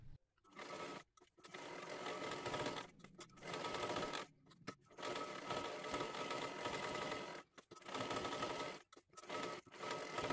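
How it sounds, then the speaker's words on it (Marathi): Sewing machine stitching the back seam of a kath-padar saree being made into a one-piece dress for a young girl, running in steady whirring bursts with several short pauses between runs, close and fairly loud. "आता इथे पाठीमागच्या बाजूला सुद्धा व्यवस्थित शिलाई करून घ्यायची आहे पूर्ण"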